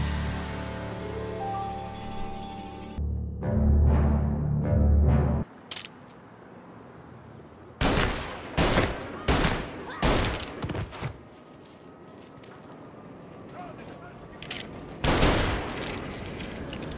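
Gunfire in Mafia Definitive Edition: a sharp burst of shots, then several loud separate bangs in an uneven series, and another cluster of shots near the end, with quieter stretches between.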